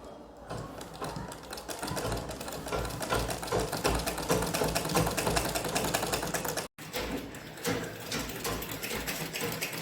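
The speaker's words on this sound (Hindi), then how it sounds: "तो देखिए कैसे ये सिल रहे हैं हम, ऐसे ही सिलना है।" Sewing machine stitching a blouse belt, a fast steady mechanical whirr and patter running continuously with one brief stop near the end, close and clear.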